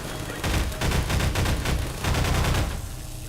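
Automated sentry turrets in Half-Life 2 fire in loud, rapid bursts, a dense rattling fusillade of gunfire that pauses briefly, resumes, and then trails off.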